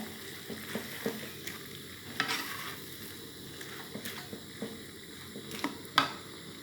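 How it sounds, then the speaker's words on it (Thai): Chinese cabbage stir-fried with shrimp and fermented soybean paste in a pan, a steady soft sizzle broken by repeated scraping stirs and utensil clinks, close and fairly quiet, with no talking. "ผักกาดขาวผัดกุ้ง ใส่เต้าเจี้ยวด้วยนะหอมหอม"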